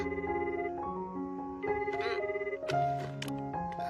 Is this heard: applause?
no